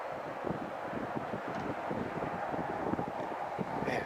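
Wind blowing at an old cemetery, a steady broadband rush with gusty buffeting against the microphone, fairly loud and continuous, without talk.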